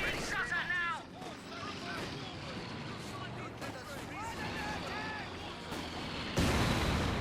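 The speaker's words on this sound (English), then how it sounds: "Mortar round landing down there." A mortar round lands in the Company of Heroes 2 strategy game during a 1v1 match: a distant, rumbling artillery thud amid ongoing battle noise and gunfire, with someone commentating throughout.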